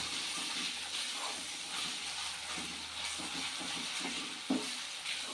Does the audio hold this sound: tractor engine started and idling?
no